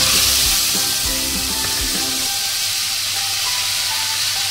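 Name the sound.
ground spice paste sizzling in hot oil for dhokar dalna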